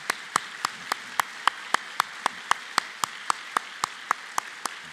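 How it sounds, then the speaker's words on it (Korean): Clapping in a church service welcoming a pastor and elders: sharp, evenly spaced claps in a steady, quick rhythm, about four per second, fairly close and distinct. "뜨거운 박수로 맞이해 주십시오"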